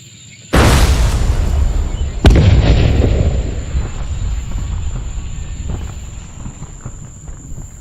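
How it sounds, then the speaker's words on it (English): A tank shell is fired at a building: a sudden loud blast, then a second sharp impact about two seconds later, with a long rumbling roar and debris noise slowly fading. "A tank arrived and fired at the building."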